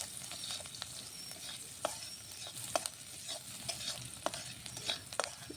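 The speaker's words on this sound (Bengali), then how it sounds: "সেই পেঁয়াজ কাটাগুলো দিয়ে দেবো সবগুলো একসঙ্গে ভালোভাবে নেড়ে চেড়ে লাল লাল করে ভেজে নেবো" Chopped onions frying with panch phoron as they are stirred in a pan, a faint, steady sizzle broken by repeated scraping knocks of the spatula.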